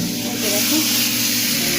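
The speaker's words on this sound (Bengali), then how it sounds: "কি তো ভাজা হচ্ছে।" Prawn curry ingredients fry in a pan with a loud, dense, continuous sizzling hiss close by, with faint voices mixed in.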